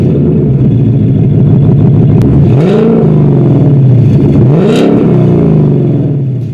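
A Ford Mustang with resonator delete and X-pipe revs hard twice, the exhaust rising and falling in two loud sweeping blips over a steady deep rumbling idle, close and alone.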